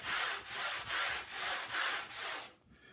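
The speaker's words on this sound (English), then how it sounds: "so I'm just going to sand this down" A cuttlebone sanded by hand for casting, heard as six steady, rhythmic back-and-forth rasping strokes, close and loud, ending abruptly in quiet.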